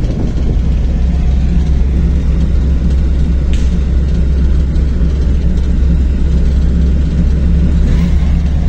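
Car engine droning and accelerating during a driving lesson, a loud, steady low rumble heard from inside the vehicle, continuous throughout, with no talking.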